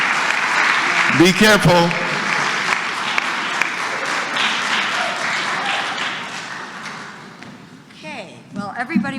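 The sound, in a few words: audience applause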